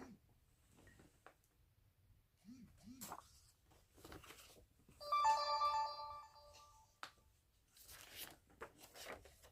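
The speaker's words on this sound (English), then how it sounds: "I turned the notifications off on this, but for some reason it's still making noise." A device plays a short tonal notification chime, clear but soft, amid quiet rustling and crinkling of packaging, with a voice speaking faintly.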